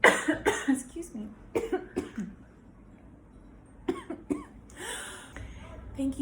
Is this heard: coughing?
yes